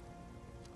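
Steady rain falls across a scene in the video game Uncharted 3, a continuous even hiss of drops on surfaces that fills the short moment without any voices.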